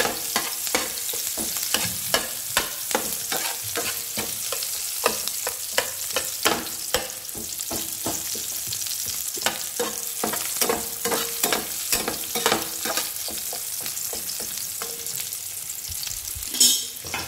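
Onion is sautéed in a pan for stuffed okra. A steady sizzle runs under constant rhythmic stirring, with many quick scrapes and clicks of the spatula and a louder knock near the end. No voices.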